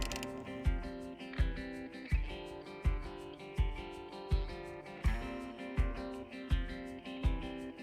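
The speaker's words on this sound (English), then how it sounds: "You just start with a ratchet" Ratchet with a small Phillips bit backing out mud guard screws on a 2024 Toyota Grand Highlander: a steady series of about ten sharp, evenly spaced clicking strokes up close, with faint metallic mechanism rattle between them.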